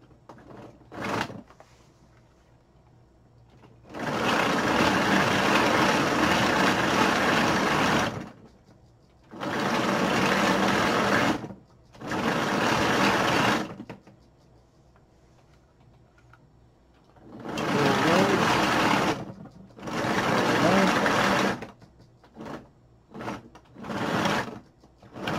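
Motors of a 3D-printed tracked tank-style vehicle running fast in several loud, buzzing bursts of a few seconds each, separated by quiet pauses, with short blips near the end.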